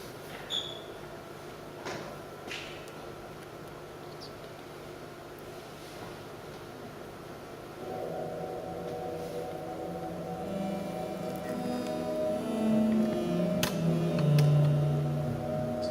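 A homemade software synthesizer played from a keyboard sends out steady sustained drone tones with a low hum, thickening into layered held notes partway through and building slightly louder toward the end, with no talking.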